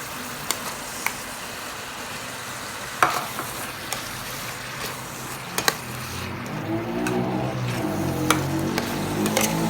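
Bamboo shoots stir-fried in a pan with sauce, a steady close sizzle broken by several sharp scrapes and clacks of a spatula against the pan, with the frying hiss growing busier toward the end.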